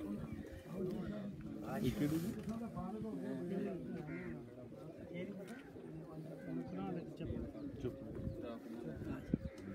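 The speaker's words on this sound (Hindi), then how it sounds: "चौधरी वकार साहब के, आपको कबूतर भी दिखा रहे थे" Pigeons coo steadily in soft, rolling throaty phrases on a rooftop, with people talking throughout the whole stretch.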